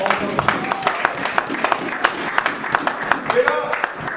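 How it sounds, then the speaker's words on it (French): A church congregation clapping for the word of God, loose rhythmic applause close by with voices mixed in among the claps. "Acclamons pour la parole de Dieu."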